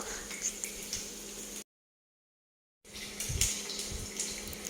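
A pot of water with four half-ripe Nam Wa bananas simmers gently over low heat, a soft steady bubbling hiss heard up close, briefly cut by a moment of silence.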